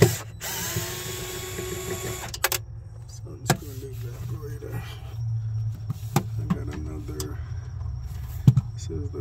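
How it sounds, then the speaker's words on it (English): Screws being driven out with a power driver beneath a Sub-Zero 424G/02 refrigerator, short whirring bursts and clicks coming close and loud between pauses, with occasional voice-like tones in the background. "Get under here and unscrew this."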